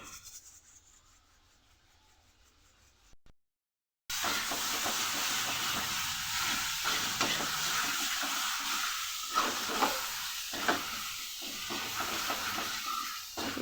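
Unripe banana peel paste with a little salt cooking dry in a pan, a steady close hiss and sizzle with scraping stirs, starting abruptly after a few seconds of near silence.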